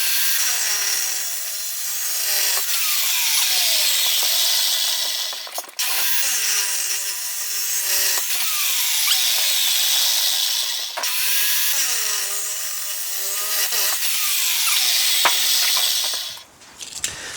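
Saw cutting through welded metal supports, long repeated back-and-forth strokes in steady rhythm, close and loud, with no talking.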